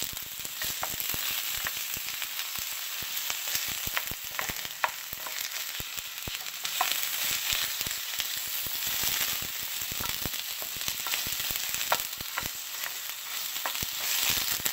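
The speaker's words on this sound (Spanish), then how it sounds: "Vamos a freír la cebolla." Onion fries in hot oil for plantain empanadas, a steady crackling sizzle with frequent sharp pops and spatters, close and continuous without talk.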